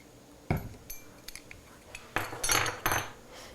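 Eggs, oil, sour cream and vanilla being stirred together for blueberry muffin batter, giving a handful of soft utensil clinks and scrapes against a bowl, close by and fairly quiet, with no talking.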